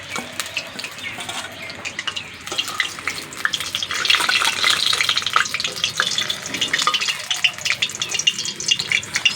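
Puffed snacks frying in hot oil for an iftar recipe, a dense crackling sizzle with some stirring and scraping, louder in the middle stretch and steady throughout.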